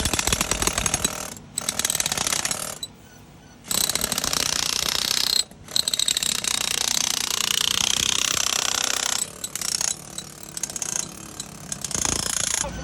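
Power tools grinding and cutting out worn bushings from heavy equipment, a loud, near mechanical whirring and rattling that runs in long bursts with short pauses between them.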